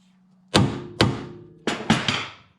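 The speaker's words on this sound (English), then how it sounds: "Give it a swift tap with an hammer." Four solid hammer taps sound close by on a 2000 Mercedes E320 front control arm, spaced unevenly, with a dull metallic thunk and a quick ringing decay over a faint hum.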